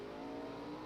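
Drag racing cars at the 1972 NHRA Winternationals launch off the start line, a brief steady engine roar heard at a distance and fairly faint.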